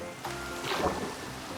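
Steady hiss of rain falling in a Minecraft world, a soft continuous wash at moderate level with no talk over it.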